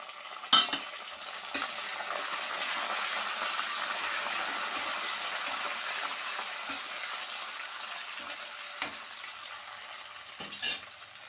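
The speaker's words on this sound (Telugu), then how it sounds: "పోపంతా సమానంగా వేగాలి పోపు వేగుతోంది కదండి" Continuous close sizzling of tempering spices with green chilies and curry leaves frying in oil, with a few sharp utensil knocks scattered through.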